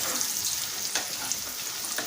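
Slices of bitter gourd and cashews fry in hot oil, giving a steady, close, unbroken sizzle with a few faint pops, and no voices over it.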